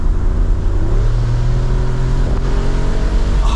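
A Jeep Wrangler 392 with its 6.4 liter HEMI V8 gives a loud, sustained deep engine rumble with a slight rise in pitch, steady throughout and close by.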